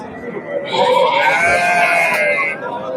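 Ewes, lambs and rams bleat in wavering, drawn-out calls that overlap one another, fairly close, with a steady background murmur beneath.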